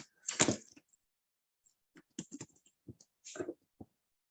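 Search query typed on a computer keyboard, a quick burst of key clicks followed by sparse, scattered individual taps, close and quiet against silence, with no talking.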